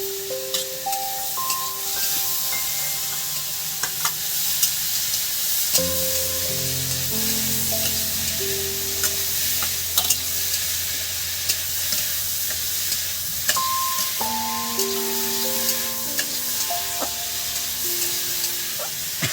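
Chopped tomatoes sizzle and hiss steadily in a little oil while being stirred in a pan for a potato chicken curry, a continuous frying crackle with soft music playing alongside and no talking.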